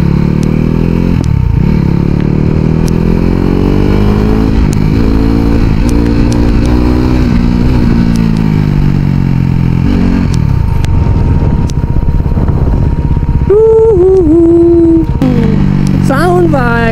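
A KTM RC 390 motorcycle engine idles loudly and close up, with repeated throttle blips and revs rising and falling. It rises to sharp high revs near the end. A voice is faintly audible under the engine.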